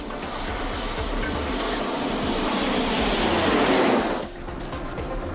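An airplane flies from Tokyo to Kyushu, its engines making a steady, loud, broadband roar that swells slightly before easing off near the end.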